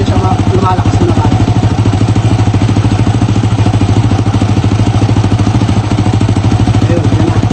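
A Honda Wave 100 motorcycle engine runs at a steady, even idle after a carburetor cleaning, close and loud, with a regular rapid pulsing beat throughout.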